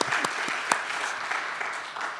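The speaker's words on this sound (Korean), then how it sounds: "영광의 박수 주님 앞에." Congregation applauding during a Korean Wednesday church prayer service, a brief burst of steady clapping with a few sharper claps, filling the room at moderate level with no talk over it.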